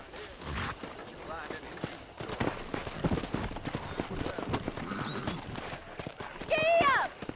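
Hooves of wild horses in Red Dead Redemption 2 clip-clopping at a quick gallop, with a horse whinnying loudly near the end and a voice speaking over it.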